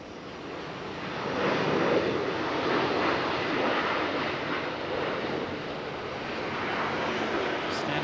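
A Southwest airliner taxis at Raleigh-Durham International Airport, heard as a steady, broad jet-engine rumble and hiss that swells slightly and holds at a moderate distance for the whole stretch.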